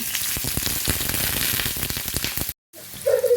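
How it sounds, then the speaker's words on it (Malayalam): Crushed onions and dried red chillies frying in hot oil for a spicy wheat-ball snack, a loud steady crackling sizzle that cuts out briefly near the end and returns with a few sharper pops. "ചതച്ച് വെച്ചിരിക്കുന്ന, ക്രഷ് ചെയ്ത് വെച്ചിരിക്കുന്ന സവോളയും ഉണക്കമുളകും കൂടി ഇട്ട് കൊടുക്കുകയാണ്"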